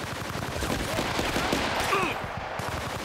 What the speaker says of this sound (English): Literally shooting him in the face. Keep firing!